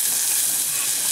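Finely chopped garlic and onion fry together in a hot pan, giving a short, even, loud sizzling hiss close up with no talking.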